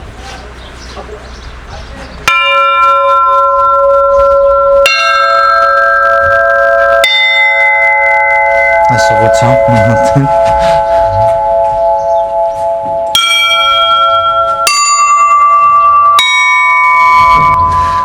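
Church bells in Amrakits, Armenia ring out in separate, loud strikes of different pitches from larger and smaller bells, each tone sustained and overlapping, with voices talking underneath at the start and midway.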